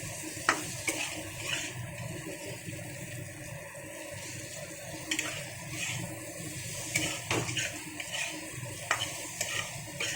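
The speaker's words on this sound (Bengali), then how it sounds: "বারবার নাড়াচাড়া করে করে সুন্দর করে ভেজে নেব এটা।" Bitter gourd being stir-fried in a pan, with soft scraping stirs recurring every second or two over a faint, steady sizzle, close and quiet with no talk.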